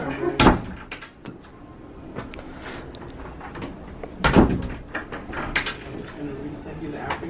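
A door bangs shut loudly near the start, then again around the middle, amid household handling noises and people talking in the background.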